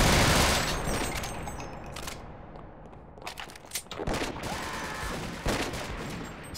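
Gunfire in the video game Half-Life, played in the Sven Co-op mod, sounds as a dense burst of shots at the start, then scattered bursts and single bangs against steady game noise.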